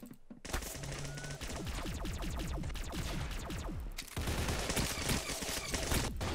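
Dense, rapid gunfire in a Roblox shooter game, many overlapping shots in a continuous loud barrage that intensifies toward the end.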